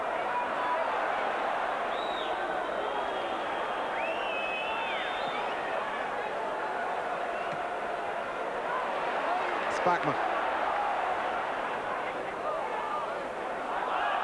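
A football crowd at Ibrox during a 1990 Rangers v Celtic match keeps up a steady, distant roar and murmur beneath a commentator's talk, swelling slightly near the end.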